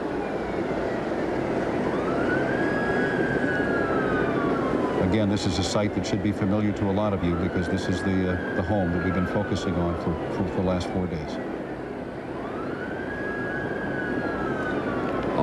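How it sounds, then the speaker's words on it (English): A news broadcast from 1994 carries wailing emergency sirens that rise and fall in the background, sometimes overlapping, while a reporter keeps talking over them. "You can hear the sirens in the background."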